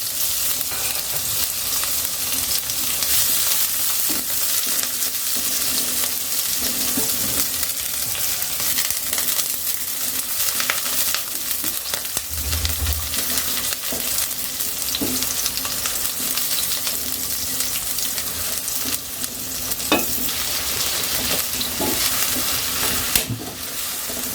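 Onion and prawns frying in hot oil for a shrimp curry with beans, yardlong beans and okra give a loud, continuous sizzle with a steady crackling hiss throughout, no voices.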